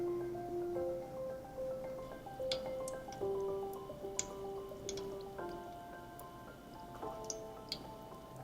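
Sugar syrup dripping from Korean fried glutinous rice cakes (juak) as they are lifted out of a syrup bath. Small close drips and ticks fall irregularly, soft and quiet, over faint background music, with no talking.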